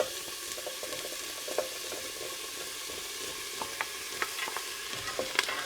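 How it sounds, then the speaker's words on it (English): Carrots sautéing with other vegetables in a pan, a soft continuous sizzle with scattered light stirring clicks and scrapes, more frequent toward the end, close and fairly quiet, no speech. "the carrots will go in, and this is the last ingredient we're going to saute"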